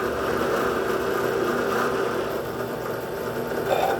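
Carbon steel drill bits spin at a lower RPM, giving a steady mid-pitched motor whir with a slight vibration that runs nearly constant for about four seconds, close and fairly loud with no talk.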